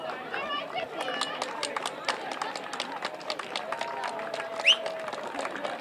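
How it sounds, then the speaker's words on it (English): A crowd at an outdoor Turks and Caicos Islands versus Jamaica netball match gives applause for both teams, scattered claps mixed with chatter and movement across a busy, lively scene. "May I please have a large round of applause for both"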